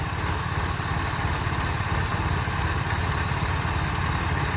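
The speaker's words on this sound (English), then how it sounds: "But the tractor hasn't been able to get any traction in the mud" A tractor engine idling in neutral while stuck in mud, a steady, continuous low rumble with a throbbing pulse, close and even throughout with no other sounds.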